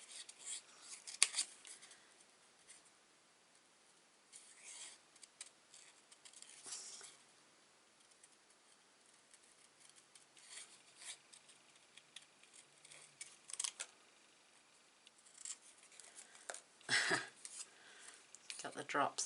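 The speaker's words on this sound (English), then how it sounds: "So let's trim this beautiful butterfly out." Scissors snip out a paper butterfly for a heat-embossed garden card, quiet intermittent rustling cuts and paper handling with short pauses, some louder snips near the end.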